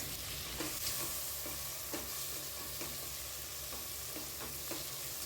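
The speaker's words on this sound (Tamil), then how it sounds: "சேர்த்துட்டு ஒரு நிமிஷத்துக்கு இது எல்லாத்தையும் நல்லா வதக்கிக்க போகிறேன்" Tomatoes sautéing in a pan with other ingredients for a brinjal and jackfruit-seed curry, a steady low sizzle with soft periodic scrapes of stirring, fairly quiet and close, with no voices.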